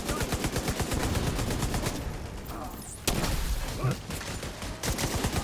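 Rapid bursts of gunfire in a shooter video game, dense automatic fire continuing through most of the stretch with a brief lull midway, loud and close, mixed with other game sounds.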